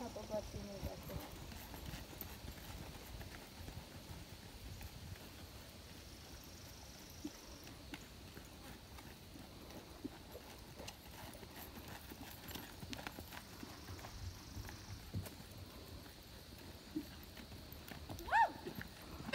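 Steady hooves of a big, long-striding horse clip-clopping at a canter, with occasional snorts and people talking quietly in the background.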